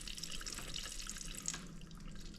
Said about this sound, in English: As soon as I took that cap off, fluid started gushing